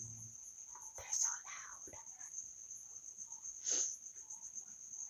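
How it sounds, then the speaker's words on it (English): Several crickets chirp in a steady, continuous high-pitched trill indoors, with faint soft rustles and a couple of brief louder bursts breaking in. "Those crickets are driving me crazy."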